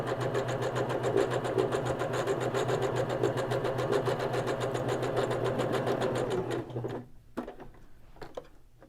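A sewing machine top-stitching a cloth napkin runs steadily at a fast, even rhythm for about seven seconds, loud and close, then stops, leaving a few clicks and light handling sounds.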